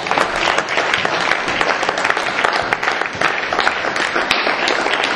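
Church congregation applauding loudly and continuously during a French-language service, a dense wash of clapping that fills the room throughout.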